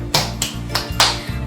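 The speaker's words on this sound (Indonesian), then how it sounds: "Mari kita beri tepuk semangat buat keempat ibu-ibu ini." A group of older women in an Indonesian community session claps a rhythmic tepuk semangat cheer, four sharp, evenly spaced claps over a steady low hum.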